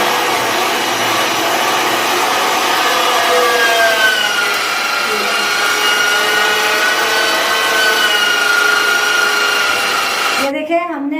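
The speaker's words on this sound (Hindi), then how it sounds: "अब हम मशीन स्टार्ट करने जा रहे हैं।" An electric meat mincer grinds meat into keema for kofta in a home kitchen, giving a loud, steady motor whine and grinding drone that runs unbroken for about ten seconds, with a voice speaking briefly at the very end.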